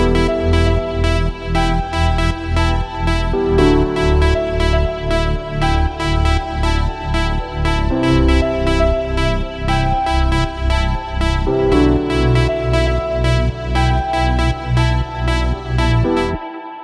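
Dense layered synth pads and strings drenched in reverb, playing together as a thick, continuous wash with a steady pulsing rhythm and chord changes every few seconds, loud and without talk.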